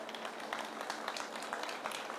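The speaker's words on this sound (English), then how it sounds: "A bigger and stronger round of applause." A crowd at a DLF Privana real estate launch event claps together, giving dense, even applause that stays soft and somewhat distant for its whole length, with no voices over it.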